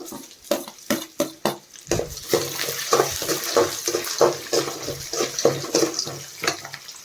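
Chana dal, garlic and dried red chillies fry in hot oil. Sharp metallic taps of a utensil against the pan come first, then a continuous close crackling sizzle.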